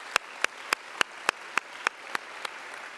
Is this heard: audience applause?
yes